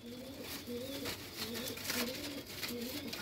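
Pigeons coo in soft, repeated rising-and-falling phrases, several calls in steady rhythm, close by with faint background noise.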